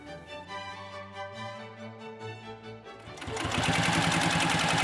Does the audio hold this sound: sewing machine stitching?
yes